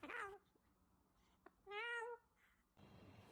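A cat meows twice close by, a short call followed after a pause by a longer, clear, drawn-out meow, with a few soft taps between them and a burst of hiss-like noise at the end.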